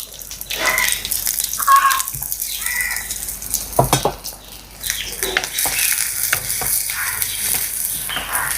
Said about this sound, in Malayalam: ഈ വെളിച്ചെണ്ണയിലേക്ക് നമുക്കുണ്ടല്ലോ നമ്മൾ അരിഞ്ഞ് വെച്ച ഉള്ളി ഉണ്ടല്ലോ അതിട്ട് കൊടുക്കാം.